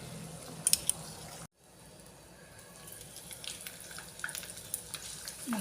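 Danggit, dried fish, frying in a pan with a steady crackling sizzle, broken by a brief near-silent gap before the frying noise builds back with scattered pops and small clinks.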